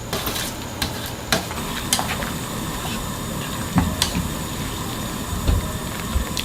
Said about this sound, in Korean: 이렇게 한번 휘휘 저어준 다음에 다 그냥 건져서 찬물에 한번 바로 헹궈주세요